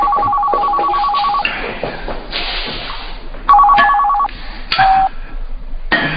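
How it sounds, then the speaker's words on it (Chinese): Telephone bell ringing in a Chinese family sitcom, with repeated electronic rings in short bursts separated by gaps and louder rings toward the end. "咱们就让妈妈接个电话。"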